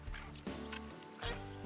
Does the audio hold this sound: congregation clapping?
no